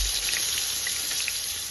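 Pointed gourd (potol) drops into hot oil with turmeric and fries, a steady bright sizzle with faint crackling pops, close and continuous with no talk.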